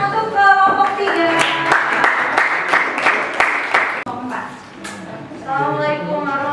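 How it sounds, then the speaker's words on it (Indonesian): Classroom applause for student group 3 after their presentation on capacitors: a dense burst of many hands clapping for about four seconds, with voices talking just before and after it. "Tepuk tangan untuk kelompok 3"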